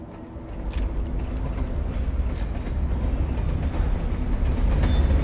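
A train rumbles across a railway bridge overhead in Alan Wake, a steady low roar that swells and grows louder, with metallic clanks and rattles near the start.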